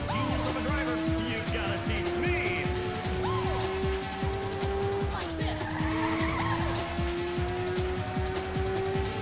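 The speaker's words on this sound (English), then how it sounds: "Let's do a slide to avoid hitting the wall." Car in the PlayStation game Ridge Racer sliding through a corner, a steady loud engine whine with long tire skid and squeal running throughout, continuous and close.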